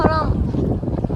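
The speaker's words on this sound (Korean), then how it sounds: "어우 바람." Strong outdoor wind buffets the microphone in loud, low roaring gusts for a moment on a trip to Gyeongju, with a brief voice at the start.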